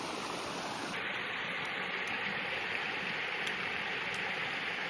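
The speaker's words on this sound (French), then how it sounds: "Il y a une source d'eau potable." A mountain spring of drinking water flows steadily, a continuous close wash of running water with no pause, heard alone.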